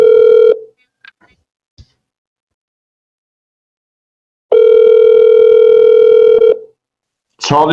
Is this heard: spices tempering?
no